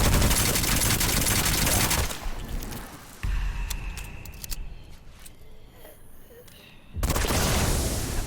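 Loud rapid gunfire in the dark fantasy shooter Witchfire, a heavy burst for about two seconds, then sparser shots and clatter at lower level before another intense volley near the end.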